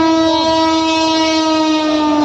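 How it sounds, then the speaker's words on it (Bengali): A loud, sustained train horn blares nearby, a steady multi-toned blast over the rumble of a passing freight train. "ওটা দেখতে পাচ্ছেন ট্রেন যাচ্ছে, মালগাড়ি ওটা যাচ্ছে"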